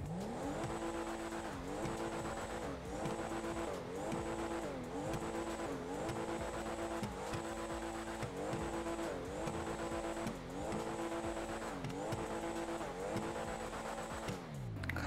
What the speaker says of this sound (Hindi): चलो अब हम इस कार का साउंड और इस कार की टॉप स्पीड को टेस्ट करते हैं।